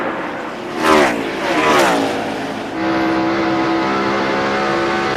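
A NASCAR race car screams past at high RPM during a 2002 race at the track, two loud rising-then-falling roars sweeping by in quick succession, followed by a steady high engine whine from the field.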